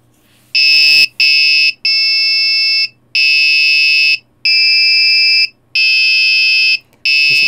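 An Arduino-driven piezo buzzer plays a Happy Birthday melody as a string of loud, shrill, steady beeps in uneven phrases, with short gaps between notes and no voices over it.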